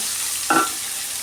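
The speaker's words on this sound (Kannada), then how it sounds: "ಸ್ವಲ್ಪ ಒಂದು ಅರ್ಧ ಭಾಗದಷ್ಟು ಫ್ರೈ ಮಾಡಿಕೊಂಡ್ರೆ ಆಯಿತು" Ingredients frying in oil in a pan, a steady quiet sizzle interrupted by one brief scrape of stirring in the middle.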